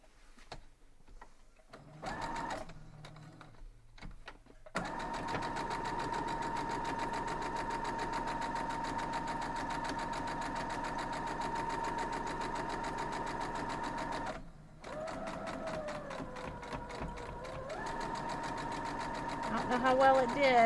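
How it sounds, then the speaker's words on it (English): A sewing machine stitches wild goose chase quilt block pieces together, running in a steady, continuous whir at close range for most of the stretch. There is a short pause, then it runs again, with a faint voice at times underneath. "So we're gonna go sew this together and see what we get."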